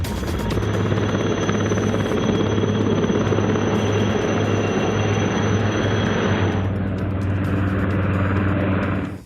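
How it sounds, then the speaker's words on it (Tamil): An Indian Air Force Prachand helicopter flies close by, its loud, steady rotor and turbine drone holding throughout before the higher whine drops away near the end. "இந்திய வரலாற்றில் முதல் முறையாக விமானப்படையின் பிரச்சந்த் ஹெலிகாப்டரில்"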